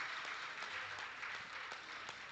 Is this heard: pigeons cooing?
no